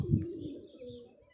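A fancy pigeon chick gives a faint, brief low cooing and squeaky peep, close by and alone against quiet surroundings.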